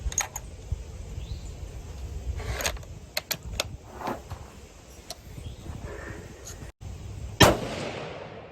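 A Tikka T3 rifle in .243 Winchester fires a 95-grain ballistic tip round outdoors. One sharp, loud crack stands out late in the clip against a low background of wind and small handling clicks.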